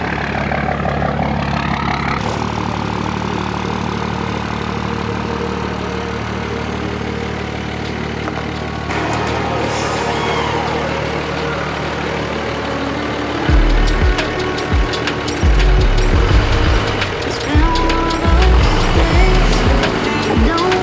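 A Cummins diesel truck engine idles after a dyno run at a Texas truck event, giving a steady broad rumble that swells into a louder, deeper roar partway through, with voices talking nearby.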